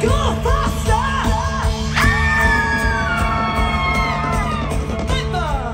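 Riders on an amusement ride yell and whoop loudly in a mass of overlapping cries, with a long sustained scream rising above the crowd and a rumbling backdrop beneath.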